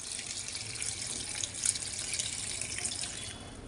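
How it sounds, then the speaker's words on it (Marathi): Tap water running steadily into a bowl to wash cabbage (patta kobi) in a home kitchen, a continuous bright splashing stream with no voices. "याच्यात आपण टाकूया पाणी."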